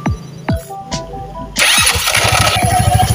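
A Rusi scooter with many faults turns over with a few labored starter whirs before the engine catches, then settles into a steady, close idle.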